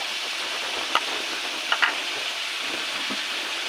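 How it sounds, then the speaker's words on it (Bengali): Potatoes frying with spices in a pan, a steady close sizzle with a few sharp pops and scraping stir sounds. No one speaks. "আলুটাকে একটু ভেজে নেব"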